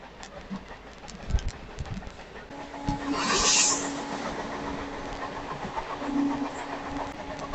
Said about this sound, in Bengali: ট্রেন বাঁকুড়া স্টেশন থেকে বেরিয়ে এখন